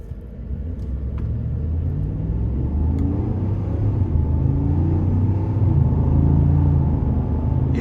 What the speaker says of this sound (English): I just wanna see, kind of show off the sound of the exhaust.